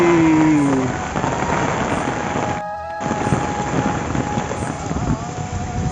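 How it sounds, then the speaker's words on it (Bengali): Steady heavy rain in Vrindavan hisses across a wide band with a constant rushing texture and a brief dropout partway through; no talking is heard. "আপনারা দেখতে পাচ্ছেন বৃন্দাবনে কত সুন্দর বৃষ্টি হচ্ছে"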